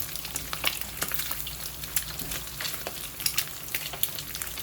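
Oil spattering in a hot pan while Spam and egg fry, a dense fizzing sizzle peppered with sharp pops and crackles at irregular intervals, close and fairly quiet, with no voices.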